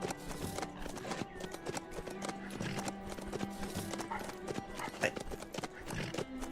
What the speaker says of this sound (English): Sometimes it sounds like the horse makes very canine-like noises.